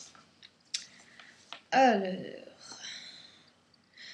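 Scissors snip through cord for a homemade hammock, a few crisp close cuts spaced apart, followed by a louder murmuring voice.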